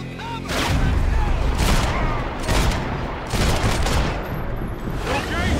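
Heavy, sustained gunfire in a Max Payne 3 firefight, loud and dense, with rolling bursts and booming impacts that pulse in waves across the whole stretch.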